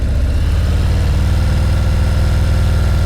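A motorcycle engine held under light throttle during slow-speed riding practice gives a close, loud, steady low chugging rumble with a fine pulsing beat that stays even from start to end.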